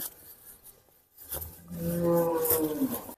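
A large dairy cow moos once in a long, loud, close bellow during the second half, after a quieter stretch of shuffling farm noise.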